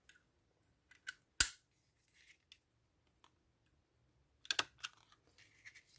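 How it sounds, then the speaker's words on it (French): A stapler drives a second staple through a paper junk journal page, giving one sharp, close, loud metallic crunch early on, followed later by a cluster of softer clicks and paper handling noises in an otherwise quiet room with no talking. "pour sécuriser, je vais mettre une deuxième agrafe"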